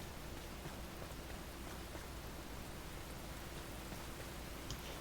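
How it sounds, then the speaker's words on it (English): Heavy rain pouring down in the video game Enshrouded, a dense, even hiss of downpour that continues unbroken and fairly quiet, with no voices. "when it gets pouring down rain pretty hard, it will put your torch out"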